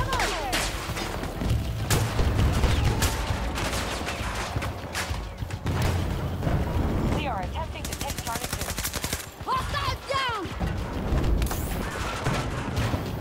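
Gunfire in a multiplayer shooter fight includes sniper shots among the sustained bursts. Dense rapid shots, booms and thuds go on continuously, close and loud, with voices talking underneath.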